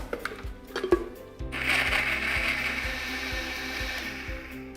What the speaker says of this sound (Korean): 네, 이렇게 하고 여러분도 이 믹서기로 갈아주시면 돼요.